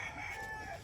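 Chickens and a rooster crowing on a Philippine chicken farm in early morning, a single drawn-out crow ringing clearly over a soft bed of fowl clucking, fairly close and with no talk.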